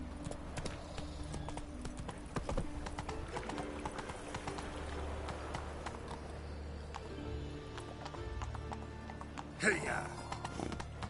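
Hooves of the horse Roach clop rhythmically at a trot in The Witcher 3, a steady close patter running throughout with a brief louder burst near the end.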